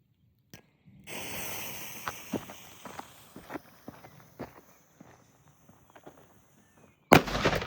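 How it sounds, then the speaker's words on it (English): Hammer cracker firecrackers go off near a padlock: a short pop, then a burst of rapid crackling that thins into scattered sharp reports, and a final loud bang near the end. "Let's try one of these hammer crackers."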